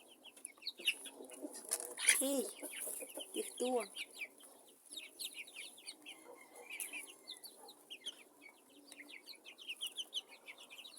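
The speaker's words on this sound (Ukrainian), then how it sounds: "думала, що тут півник і дві курочки" A rooster and hens cluck and call around a backyard in Kryvyi Rih, with bursts of sharp, close clucking mixed with chirping, while a person speaks briefly among them.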